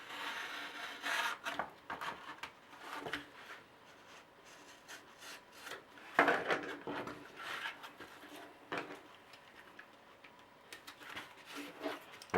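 A blade shaves along the edge of foam while an RC combat plane is being built, making irregular close scraping and rasping strokes with short pauses between them.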